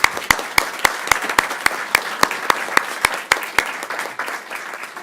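A small meeting audience at a transportation board session claps in a steady, evenly spaced run of sharp, distinct claps that gradually thin out and fade, with no talking over them.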